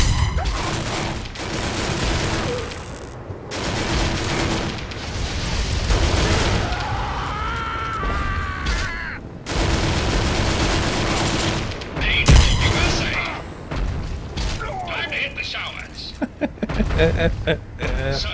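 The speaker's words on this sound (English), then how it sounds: "I love the sound this gun makes." Rapid gunfire from a weapon in the video game Fallout 3, with dense repeated loud bursts and booms continuing through the whole stretch, and a voice talking at times.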